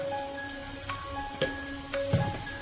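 Ripe mango mixture with powdered jaggery is stirred in a pan over steady, soft sizzling, with a few sharp spoon clacks against the pan and a faint tonal hum in the background.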